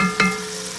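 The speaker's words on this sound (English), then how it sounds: "So we can just hear our ham starting to sizzle a little bit in here." Ham starting to sizzle in a soup pot, a steady close frying hiss with a faint clink partway through, brief and with no talk.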